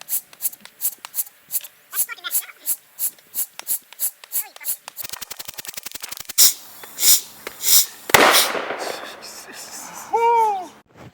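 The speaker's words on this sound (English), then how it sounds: "This explosion seemed to be much louder than the previous two." A run of rhythmic squeaky pumping sounds as three balloons are inflated together ends in one sharp, loud pop, followed by a brief rustle and a high chirp.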